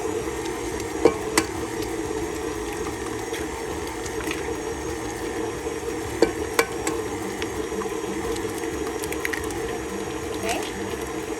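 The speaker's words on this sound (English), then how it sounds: "So I just keep my mixer going." An electric mixer keeps running while eggs are worked into mocha chocolate chunk cookie dough. It gives a steady whirring hum with scattered small clicks and rattles, moderately quiet, with no talking.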